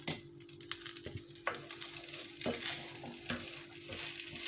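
Five hundred grams of rice, with salt added, are stirred and lightly toasted in a pot, giving soft scraping and rattling strokes in an irregular rhythm over a faint sizzle.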